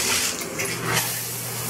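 Water runs steadily from a tap in a deluxe studio villa room at Disney's Boardwalk Villas Resort, a close, continuous hissing stream without talk.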